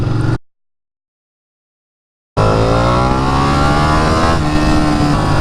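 A Ducati Panigale motorcycle engine roars loudly and close after a brief silent gap, a dense, steady rev with strong harmonic drone, heard alone without talk.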